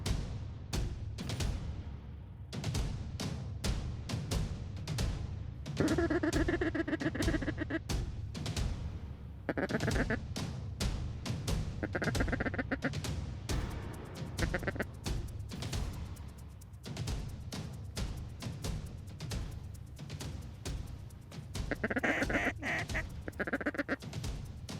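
Ducks quack repeatedly over a dense barrage of sharp shotgun bangs during a waterfowl field hunt in North Dakota, with honking goose calls mixed in, loud and close throughout.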